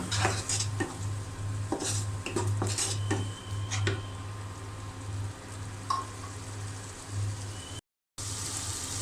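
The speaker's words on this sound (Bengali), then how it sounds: "এখন আমি মশলাটা ভালো করে কষিয়ে নিব।" Ginger, garlic and cumin paste sautés in a pan, a low sizzle under repeated scraping and clinking of a spatula against metal, with a brief cut to silence near the end.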